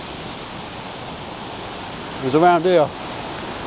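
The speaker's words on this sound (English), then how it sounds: "We've got some rapids there." River rapids and a waterfall on a walk, a constant broadband roar of rushing water close by, with someone briefly speaking over it.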